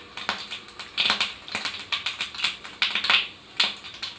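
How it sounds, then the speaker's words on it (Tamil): Mustard seeds, urad dal and chana dal splutter in hot oil for a pottukadalai chutney tempering: close, quick, irregular crackles and pops, with no one speaking. "கடுகு நல்லா பொரிஞ்சிடுச்சு."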